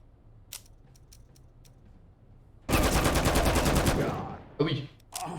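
A machine gun fires a rapid sustained burst in the video game Empire of Sin, preceded by faint clicks and followed by a few short bursts and clatter.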